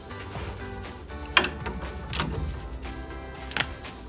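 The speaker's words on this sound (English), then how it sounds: "we're going to use a 15/16 socket to remove the lower shock nut" Ratchet wrench with a 15/16 socket working the lower shock nut on a 2009-2018 RAM 1500 front Bilstein shock, giving steady close mechanical clicking with a few sharper metallic clacks along the way.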